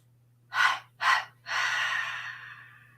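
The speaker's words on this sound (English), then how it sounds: "And then 3 of those sort of foggy breaths." Three slow, breathy exhalations during a Pilates breathing exercise: two short puffs followed by a longer, trailing foggy breath, close and alone with no talk.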